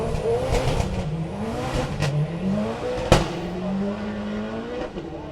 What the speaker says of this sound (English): Hear the power as he tries to get traction in that car.